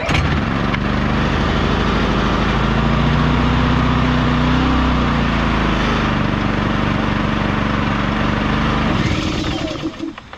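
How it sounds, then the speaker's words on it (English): A cold Cat D5 dozer's diesel engine starts and runs steadily while warming up, a loud, continuous low drone that holds for several seconds and then cuts off near the end. "I'm gonna get this dozer warmed up"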